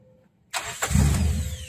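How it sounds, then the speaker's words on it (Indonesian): A 1994 Daihatsu Feroza engine cranks with a short burst, then catches and settles into a steady, fairly loud idle rumble after a quiet start. "Ya, ini saya mau menghidupkan mesin."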